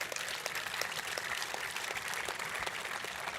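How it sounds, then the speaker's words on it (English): Applause for aircraft crew chiefs at a warbird aviation event: a modest, fairly distant round of clapping, scattered and steady, with no voices over it. "let's give a round of applause to the crew chiefs"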